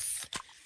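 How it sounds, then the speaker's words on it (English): A freshly opened can of Pepsi gives a short hiss of spray, then a quick burst of pop and fizz that fades to a faint, close-up sizzle. "that's the sound of a freshly opened fizz-filled Pepsi."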